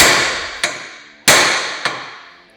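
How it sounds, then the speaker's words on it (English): Two hammers pound a Kawasaki Teryx KRX 1000 UTV A-arm to knock it loose, giving four sharp metallic strikes in an uneven alternating rhythm, two heavy and two lighter, close and loud with ringing decay. "We're gonna get 2 hammers. We're gonna smack them right here on our arm until it separates."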